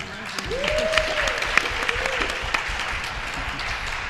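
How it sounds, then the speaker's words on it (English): A conference audience applauds a panelist at a social media and social change event, a steady patter of clapping at moderate distance lasting several seconds as a voice speaks over the start. "Let's give her a round of applause."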